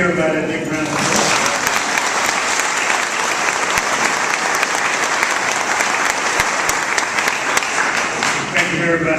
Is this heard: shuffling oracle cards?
no